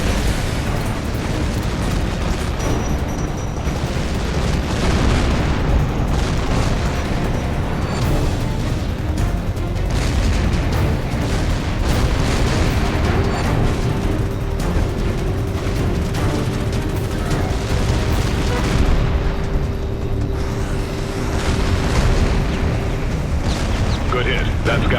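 Missile explosions in Tom Clancy's H.A.W.X 2 aerial combat come as repeated heavy booms over a dense, rumbling battle bed, with voices talking at points.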